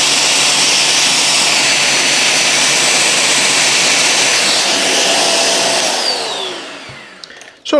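A Silvercrest SMS 300 C3 handheld anti-dust-mite vacuum cleaner runs with a loud, steady, airy whine that holds for several seconds, then winds down and cuts off near the end.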